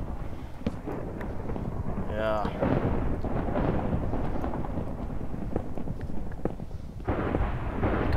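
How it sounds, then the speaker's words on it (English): Thunderstorm in a Minecraft-style video game, heard as loud continuous rumbling thunder with sharp cracking bursts throughout, played under a man's brief speech. "Those storms are starting to bug me."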